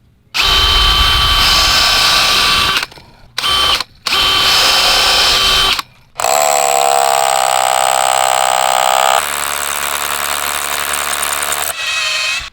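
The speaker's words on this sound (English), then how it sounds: "What I'm going to do is drill this out." A power drill with a 1/2 inch boring bit whines loudly in several bursts through wood, revving up and bogging down as the bit bites in, with brief pauses between runs.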